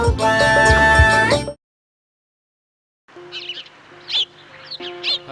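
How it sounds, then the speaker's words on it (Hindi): Birds chirp and tweet in short, bright calls in an animated Hindi moral story. The calls come after a loud musical passage and a moment of silence. "हजारों पंछी"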